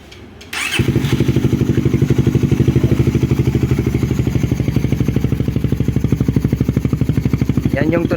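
A motorcycle starts up after a brief click and settles into a loud, close, steady idle with a rapid, even pulsing beat; the DIY rumble idle is switched off.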